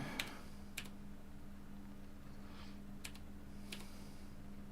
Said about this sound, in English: just typing in the partial board name and it brings up the files for me